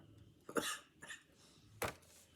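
A few sharp coughs close to the microphone, two quick ones followed by a louder single cough after a short pause, in a quiet room.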